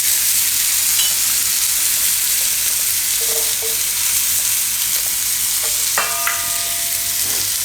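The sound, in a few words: garlic frying in oil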